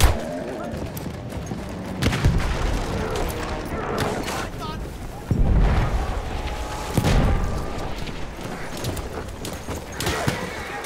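A grenade explodes in the World War I shooter Battlefield 1, a sharp boom rising over steady battlefield noise, hoofbeats and scattered gunfire, with a second blast soon after while voices talk throughout.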